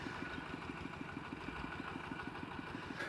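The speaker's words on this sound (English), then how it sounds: "It's the same engine they use for the pumping and the tractors as well." An old truck engine idles with a steady, rapid low chugging throb, running evenly at moderate distance under a constant background hum, in rural Thailand.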